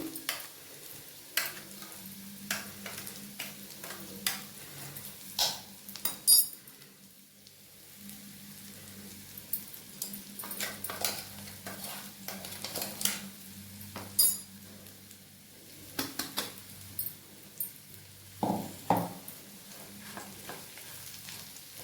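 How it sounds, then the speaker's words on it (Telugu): Steady sizzling of bitter gourd frying in a pan with ground spice powder, with scattered scrapes and clinks of a utensil stirring throughout; no talking. "ఈ ఫ్రై అంత బాగా పచ్చివాసన ఫ్రై చేసేసుకుంటే సరిపోతుంది"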